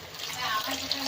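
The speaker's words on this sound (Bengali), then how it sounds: "জল দেব।" Water poured into a pan of chilli chicken, a brief liquid splash over sizzling, with a voice speaking at the same time.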